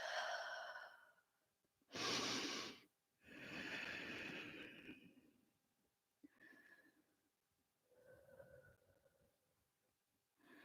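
Slow, audible breaths in and out during a yoga forward fold in an all-levels vinyasa flow, a long sighing exhale followed by softer, quieter breaths spaced a few seconds apart, close and alone with no talk.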